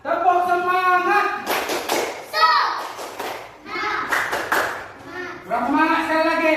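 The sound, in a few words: class doing a rhythmic spirit clap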